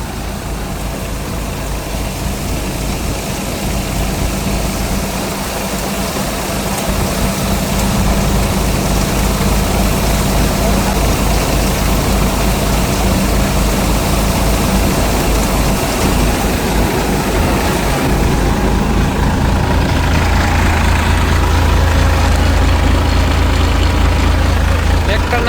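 A tractor-driven Shaktiman 2025-model thresher works through pearl millet with the tractor held around 1100 rpm, giving a loud, steady, unbroken mechanical drone with a deep low rumble lasting the whole stretch.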